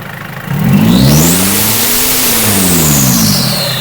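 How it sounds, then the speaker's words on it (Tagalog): Large engine revved hard at full throttle on a vehicle with a damaged transmission and turbo that spews coolant, a loud sustained roar that climbs, peaks and sinks back while staying near and steady throughout. "Isa pa, itodo mo pa ng revolution."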